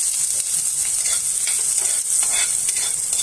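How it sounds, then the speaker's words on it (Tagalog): Garlic sautéing in hot oil for chicken adobo with string beans, a steady close hiss of sizzling with scraping stir strokes throughout, no voices. "Okay mga kames, ilagay na natin ang bawang."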